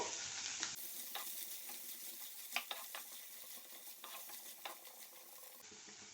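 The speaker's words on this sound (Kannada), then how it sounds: "ಈಗ ನಾವು ಇದಕ್ಕೆ ಈ ಕಾರ್ನ್ ಆ್ಯಡ್ ಮಾಡುವ ಸ್ವಲ್ಪ ಫ್ರೈ ಮಾಡುವ ಬಟರೊಂದಿಗೆ" Corn kernels fry and sizzle in butter while being stirred in a pan, with a steady sizzle broken by several sharp scrapes and clicks of a spoon against the pan, close and without talk.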